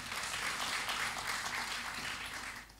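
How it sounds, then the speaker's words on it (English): Steady applause from a crowd, dense clapping sustained throughout and tapering slightly at the end. "A round of applause for him."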